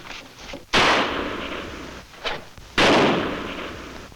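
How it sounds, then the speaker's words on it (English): Two loud, sharp gunshots, each followed by a long echoing rumble, with a fainter crack between them. "gunfire"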